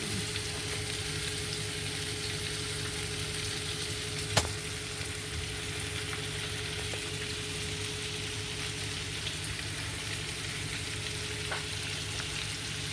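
Chicken pieces fry in hot oil in a pan with a steady, even sizzle and crackle throughout, plus one sharp click partway through and a constant low background hum.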